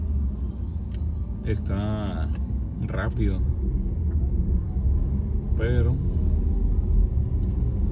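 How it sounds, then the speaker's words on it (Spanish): Road traffic rumbles along a seaside boulevard on a Saturday evening, a continuous low drone of passing cars with someone talking over it in short bursts. "Hay tráfico, ¿eh? Fíjense que hay tráfico."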